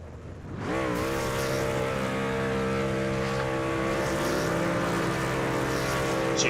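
Race trucks doing burnouts in the iRacing simulation at Richmond, engines roaring loudly and continuously after a brief quiet start, sustained high revving tones held steady for several seconds with no talk.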